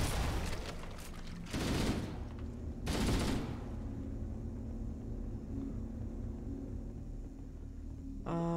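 Gunfire rattles in Halo: The Master Chief Collection, with bursts of rapid automatic fire over a low rumbling game background, loudest in short volleys early on and then easing to a quieter ambient hum.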